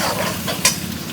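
Sliced onions fry in a pan for a home-cooked meal for fifteen people, a soft steady sizzle with a brief scrape or stir partway through, close and alone.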